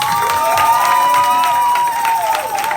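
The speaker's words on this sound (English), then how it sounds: "let's give them a round of applause" A crowd at a youth Bible quiz competition claps and cheers loudly and steadily, with a bright sustained tone ringing over the noise throughout.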